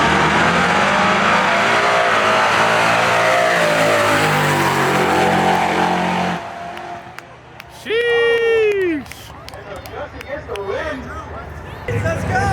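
Drag racing truck and Camaro launch hard on an eighth-mile pass, a loud roaring engine rush with layered revving that cuts off abruptly midway, followed by quieter crowd noise, a tire squeal and voices.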